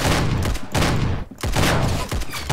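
Rapid bursts of gunfire in the Roblox shooter Arsenal, loud and close, coming in dense volleys with brief gaps between them.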